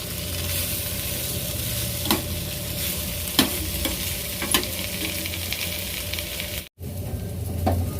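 Arbi (taro root) with coriander fries in a pan under steady, close stirring, with a constant sizzle broken by occasional scraping clicks of the spoon.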